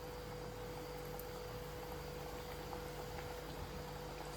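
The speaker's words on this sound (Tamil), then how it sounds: "நல்லா கொதிச்சு வருது. இங்க பாருங்க, பொங்கி வருது பாருங்க." Small badusha pastries fry in bubbling hot oil, giving a steady, dense sizzle and crackle that holds evenly throughout at close range.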